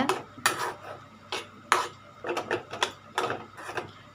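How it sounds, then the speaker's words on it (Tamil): A metal kadai pan set down on a stove for making honey cake, a series of clattering metallic knocks and scrapes of cookware against the burner, close and fairly loud, with no talk. "ஸோ ஸ்டவ் ஆன் பண்ணிவிட்டு கடாய் வந்து வச்சுக்கோங்க."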